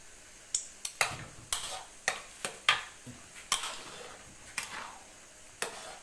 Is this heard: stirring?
yes